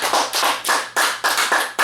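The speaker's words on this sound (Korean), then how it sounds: "하나님께 영광의 박수 드리겠습니다" A congregation claps in unison during a church sermon, about seven sharp rhythmic bursts of applause close by, evenly spaced and loud with no voices over them.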